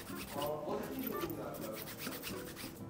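Cotton cloth rubbing lightly over a leather shoe after brushing, a steady soft scuffing and rasping with repeated wiping strokes, close up and continuous.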